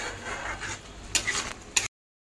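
Pav bhaji mixture bubbling and sizzling in a pan, a steady soft simmer with a couple of sharper clinks or stirring scrapes near the end.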